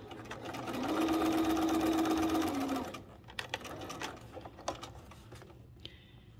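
A sewing machine stitches wedding ring quilt pieces, running in one steady rapid burst for about two seconds, then falling quiet to small clicks and handling noises.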